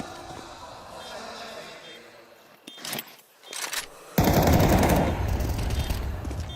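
An M4 rifle firing in a Counter-Strike 2 match at a pro esports event, short bursts in the first half, then a louder dense wash of shots and game noise, with a caster talking over it.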